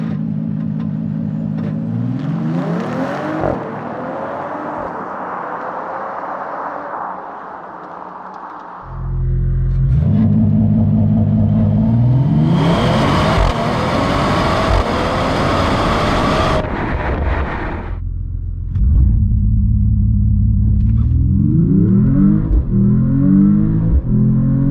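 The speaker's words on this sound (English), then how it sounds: "all of the engine noises that you hear in the cabin are just MP3 files played through the stereo system" Engine sound from a Mercedes-AMG E53 wagon plays through the cabin stereo, a loud droning rumble that swells and drops with repeated rising revs through gear changes across the whole stretch.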